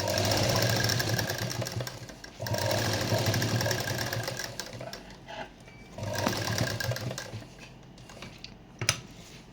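A sewing machine stitches pearl-beaded lace onto a dupatta, running in loud, steady bursts of whirring and clatter with short pauses and slowdowns between runs.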